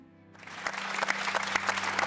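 Applause breaks out in a live German studio setting during an emotional final interview, rising from near-quiet into steady, dense clapping that holds loud and continuous to the end.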